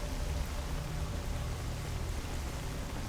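Pouring rain in S.T.A.L.K.E.R. Anomaly, a steady, dense hiss of falling water with low rumble beneath, constant and enveloping throughout with no voices.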